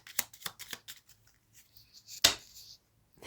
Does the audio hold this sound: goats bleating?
no